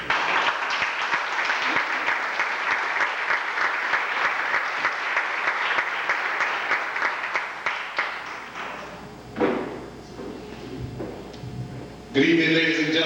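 Sustained applause from an audience at an evening event at the New Jersey Institute of Technology, dense and steady for several seconds, then tapering into scattered claps and a few voices.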